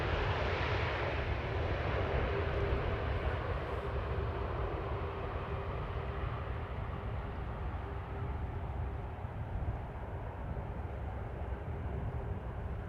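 A landing airliner at Amsterdam Schiphol's Polderbaan runway with only idle reverse thrust makes a steady, broad engine roar and rushing air noise that holds for the whole stretch at moderate distance, with no voices.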